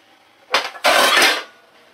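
A metal lid set onto a pot of boiling greens in a home kitchen, two quick clanks, a short tap followed by a longer ringing scrape as it settles, close and clear.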